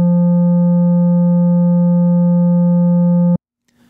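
A synthesizer sine wave with its DC filter switched off, a loud, steady pure tone holding for over three seconds before cutting off abruptly, followed by a faint click.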